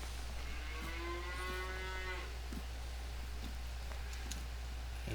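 Cattle moo in Farming Simulator 19 on a Pacific Northwest farm map: one drawn-out low moo, then a second shorter call, heard over a steady background hum with no talking.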